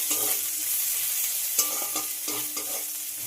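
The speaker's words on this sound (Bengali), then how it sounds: "পেঁয়াজ রসুন আমার ভাজা হয়ে গেছে।" Finely chopped onion, garlic cloves, nigella seeds and dry red chilies fry in hot oil with a steady close sizzle, broken by several short clattering stirs of a spatula against the pan; no voices.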